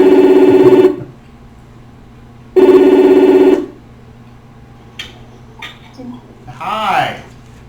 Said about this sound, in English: It's ringing that loud on her side.